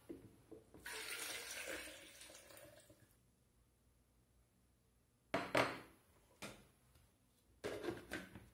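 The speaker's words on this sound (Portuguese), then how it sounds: "Meio litro de água." Water from a tap splashes and gurgles into a container for a juice recipe, giving a few seconds of steady rushing, then a pause, followed by short clunks and knocks of kitchen handling nearby.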